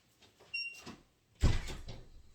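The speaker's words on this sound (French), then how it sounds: "on va fermer toutes les portes" Doors shut indoors, a soft knock followed by a louder thud close by, with no talk over it.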